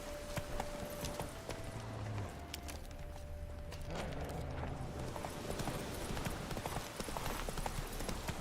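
Hooves of Roach, the horse in The Witcher 3 video game, clop steadily and quickly on the ground throughout, fairly close, with a faint steady tone in the background.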